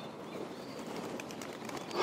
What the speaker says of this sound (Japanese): 鳩です。